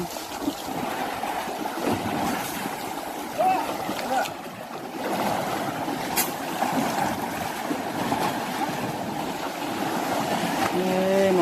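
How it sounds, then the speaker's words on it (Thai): A young elephant plays in water at Wang Thalu, with steady splashing and sloshing set against a broad outdoor wash, while people talk intermittently nearby. "อันนี้น้องช้างก็ลงเล่นน้ำแล้วนะจ๊ะ"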